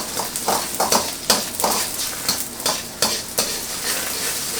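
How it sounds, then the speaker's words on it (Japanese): Loud, steady sizzling of beaten eggs frying in hot oil for a Chinese chive-and-egg stir fry, with rhythmic scraping and stirring strokes against the pan. "熱されてきたら卵を入れます"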